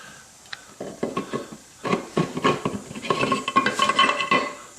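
Metal parts of a Ford Model A transmission cluster gear clinking and scraping as they are handled, a series of close, irregular clanks and rattles growing busier toward the end.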